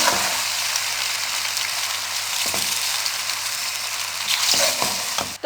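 Chicken macaroni with boiled pasta sizzles and fries in a kadhai wok while being stirred, a constant close hiss of frying broken by a few scraping stirs of the spoon against the pan, with no voices.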